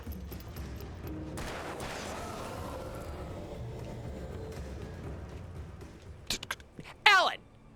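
Gunfire in the Alan Wake video game, a few short sharp shots late in the clip after a long stretch of rumbling game ambience, fairly loud and up close.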